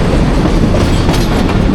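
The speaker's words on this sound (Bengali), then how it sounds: "এর মাঝে ট্রেন চলে আসছে আমাদের নেওয়ার জন্যে" A train pulls into a station, its loud, steady rumble of rolling wagons close by, with faint clickety-clack from the wheels running throughout and no voices.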